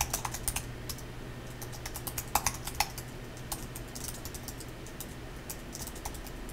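Typing on a computer keyboard with quick bursts of crisp key clicks, close and fairly quiet over a faint steady hum, with no talking.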